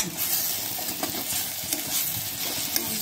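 Taro flower bharta stirred in a pan after simmering covered on low flame, giving a continuous close sizzle with soft scraping and stirring strokes throughout, no voices.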